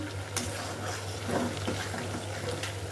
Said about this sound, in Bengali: চিংড়ি মাছটা ভুনা করতেছি